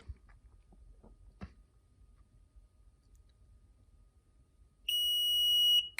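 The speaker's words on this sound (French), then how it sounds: "J'appuie jusqu'à temps que j'entende un long bip." After a few quiet clicks and thumps, a single sustained high-pitched electronic beep from a Tesla Model 3 electric tailgate sounds for about a second, then cuts off.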